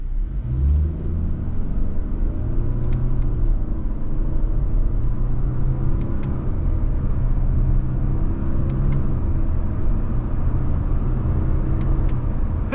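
A 2024 Subaru Crosstrek Limited pulls away in manual mode, a steady low engine drone and road rumble heard from inside the cabin, with occasional faint ticks and no talking.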